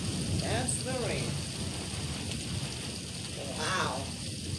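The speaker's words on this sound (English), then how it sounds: "That's the rain." Heavy rain pours steadily during a Florida thunderstorm, a dense, continuous hiss that stays loud throughout while a person talks over it.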